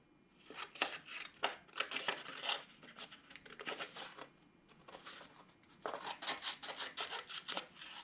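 Scissors snip around a paper star ornament template, close and fairly quiet, in a quick series of crisp cuts with a brief lull midway.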